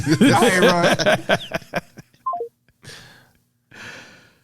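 A phone call being hung up: a short descending series of electronic tones after speech, followed by two soft bursts of handling noise or breath.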